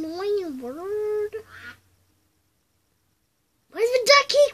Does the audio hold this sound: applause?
no